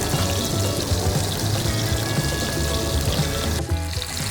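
Meatballs hit a little oil in a hot pan and fry with a loud, dense, continuous sizzle and crackle, close and without voices.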